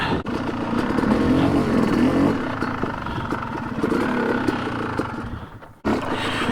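A Yamaha YZ250 two-stroke dirt bike roars along a trail, its engine loud and close, holding high revs, then easing off, dropping briefly to near silence, and picking back up, with no talk.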